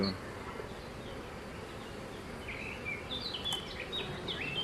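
Steady, dense buzzing of many bees at a beehive close by, a continuous droning hum with occasional higher whines as individual insects pass near.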